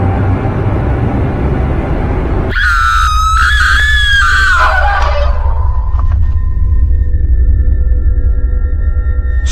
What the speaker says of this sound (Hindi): बाहर से किसी के चिल्लाने की तो आवाज आ रही है